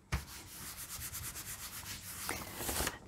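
A sheet of paper is rubbed over a gel printing plate to lift off leftover paint, giving a close, steady scratchy rubbing with rhythmic strokes and no voices.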